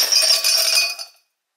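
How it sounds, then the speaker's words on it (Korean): Ice cubes drop into a glass while a summer latte is made, a brief bright clinking rattle up close that rings for about a second and then cuts to silence. "먼저 얼음을 조금 넣어 줄게요"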